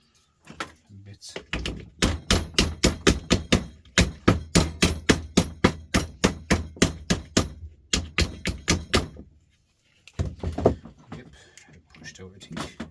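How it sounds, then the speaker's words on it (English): Hammer blows striking a scrapped item to break it apart into bits, a long run of sharp, evenly spaced loud impacts with brief pauses, close by, plus a few muffled knocks. "I'm going to try and hit him out with a hammer and see what it come out in bits"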